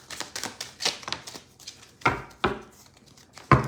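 A deck of cards is shuffled up close, a quick run of flicking riffles followed by a few sharper taps and snaps.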